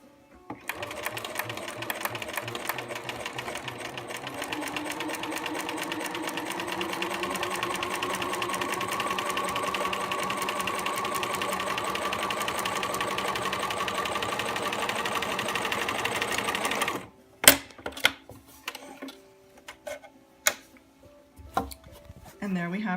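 Sewing machine piecing quilt top fabric along the edge, a fast rhythmic needle clatter running steadily for about seventeen seconds before stopping, followed by scattered clicks and fabric handling noises.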